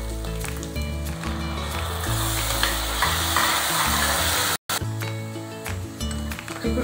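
Ground tomato paste sizzles in a pan for spicy dhaba-style tomato rice, a loud, close frying hiss with stirring and a brief break partway through, no voices.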